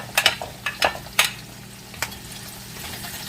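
Onions frying and caramelizing in oil in a pan, a low crackling sizzle broken by several sharp stirring clatters and scrapes, heard up close with no voices.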